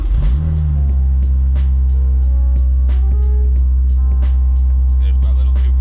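A freshly built Honda S2000 with an F24 2.4-litre stroker engine cranks and fires for its first startup, settling into a loud, steady idle with a few light blips of the throttle.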